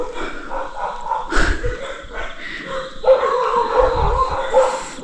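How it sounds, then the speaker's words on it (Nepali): Dog barking and yipping after chasing a fox in rainy rural Nepal, with repeated close barks mixed with whimpering yelps in an uneven rhythm, and a voice talking faintly over them. "कुकुरले स्याललाई खेदेको छ अहिलेसम्म भुक्दैछ"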